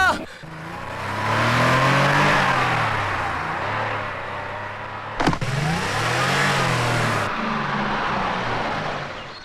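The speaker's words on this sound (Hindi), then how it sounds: "अरे क्या गाड़ी दी है सूरती ने?" A car engine running and revving up and down, loud and close, with a sharp click partway through as a power window operates; voices are present under the engine sound.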